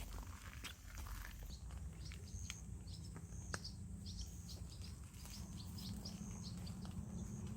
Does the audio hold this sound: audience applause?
no